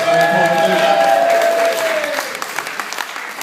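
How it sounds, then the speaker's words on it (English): Wedding guests break into applause during a best man's speech, a dense burst of clapping with a few cheers that swells and then thins out into scattered claps. "come on, round of applause for that"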